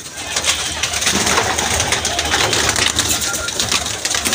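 Pigeons cooing nearby amid a busy rustling background, with soft flutters and a continuous murmur of activity.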